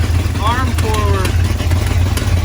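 A rebuilt heirloom Holley 4-barrel carburetor engine idles with a steady, loud low rumble, while voices talk over it.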